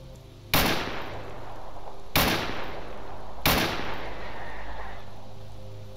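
Three loud, separate gunshots crack in S.T.A.L.K.E.R. Anomaly, spaced roughly a second or more apart, each with a short echoing tail over a steady low background hum.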